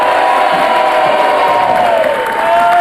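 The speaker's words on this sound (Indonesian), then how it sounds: "Tepuk tangan untuk semuanya." Studio audience on an Indonesian TV talk show, heard as a loud, dense wash of crowd cheering and shouting that holds steady for a few seconds, with clapping mixed underneath.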